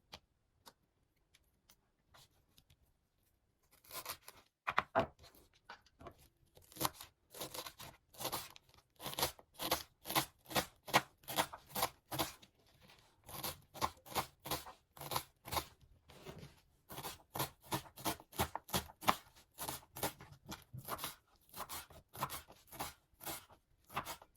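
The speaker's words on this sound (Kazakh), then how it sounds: "Енді бұны да ұсақтап тураймыз" Green onions being finely chopped with a knife on a board, a fast steady run of sharp crisp cuts that starts after a few seconds of near silence and continues throughout, close and fairly loud, with no talking.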